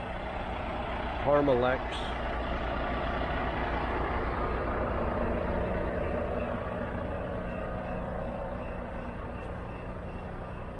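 A car carrier truck idling and rumbling close by, steady engine drone with a brief louder burst early on, while a person speaks briefly over it.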